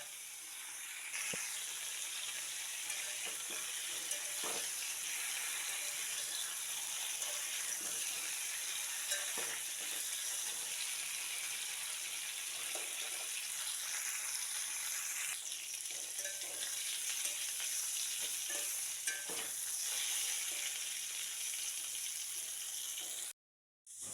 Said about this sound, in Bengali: হলুদ লবণ দিয়ে পটলটা ভেজে নিচ্ছি।